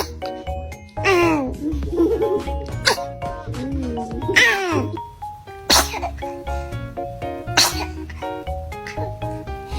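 A baby sneezes several times in short sharp bursts over a steady music bed, with adults speaking now and then between the sneezes.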